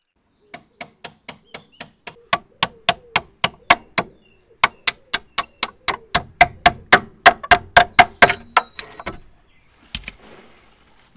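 Bolts come out of a 1978 Jaguar XJ6 as a fast, evenly spaced run of sharp metallic clicks, loud and close, pausing briefly, resuming, then thinning to a few scattered clicks.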